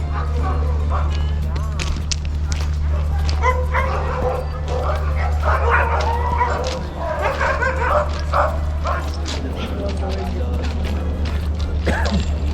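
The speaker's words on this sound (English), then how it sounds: "Lots of dogs. Hear them? They're all over up there." Many sled dogs at Tierra Mayor Natural Reserve near Ushuaia, Argentina bark, yip and whine at once, a dense overlapping chorus from several directions, with a steady low hum and some voices underneath.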